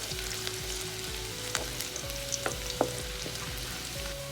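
Garlic sautés in hot oil in a pan for egg fried rice, a steady, soft sizzle and crackle with occasional sharp pops and light scraping of a utensil, fairly quiet and close.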